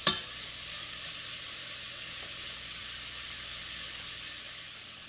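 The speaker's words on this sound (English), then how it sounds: "So the meat is cooking." Meat fries in a pan on low heat for a creamy Tuscan soup, a soft steady sizzle and hiss after a brief clunk at the start.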